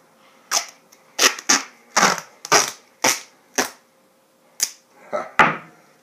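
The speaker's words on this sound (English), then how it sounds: "I'll use duct tape." Duct tape pulled off the roll and torn for packing a box, in a string of sharp, close ripping bursts with short pauses between them.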